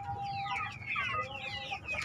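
Chickens cluck and chatter on a farm where about thirty breeding birds are kept, several overlapping calls close by in a busy, continuous flurry with no speech.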